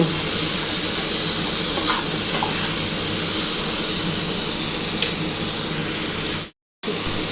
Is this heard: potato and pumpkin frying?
yes